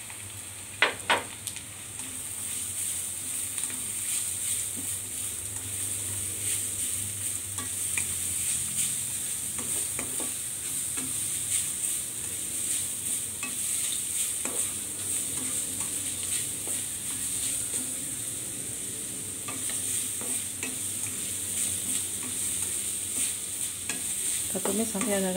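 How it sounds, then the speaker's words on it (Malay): Carrots stir-fried in a hot pan with onions for martabak mie telor, a steady close sizzle broken by frequent scraping and stirring clicks throughout. "Tumis sampai agak layu ya wortelnya."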